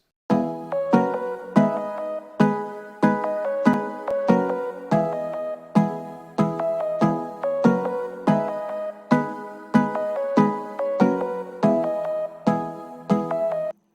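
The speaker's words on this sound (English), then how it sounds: "So with the chords, it sounds like this." Synth chords from a hip-hop beat built in FL Studio hit in steady rhythmic stabs, each bright chord decaying quickly before the next, repeating clearly for the full stretch with no voice over them.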